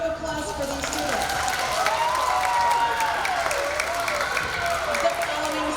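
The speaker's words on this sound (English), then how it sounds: "Can we get a round of applause for these students?" Audience applause for award-winning elementary students at a school awards ceremony, a steady wash of clapping with voices murmuring underneath, holding at an even level throughout.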